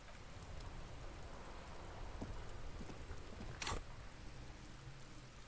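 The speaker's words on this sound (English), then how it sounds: "This rain will not let up anytime soon." Steady, soft hiss of rain falling in the Disco Elysium video game, an even wash of patter throughout with one brief sharper burst near the middle; no talking.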